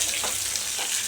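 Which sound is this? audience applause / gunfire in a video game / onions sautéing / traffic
onions sautéing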